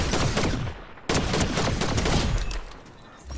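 Shotgun blasts and rapid gunfire in a bot-fighting video game played on a controller, a dense, loud barrage with one sharp burst near the middle, no talk.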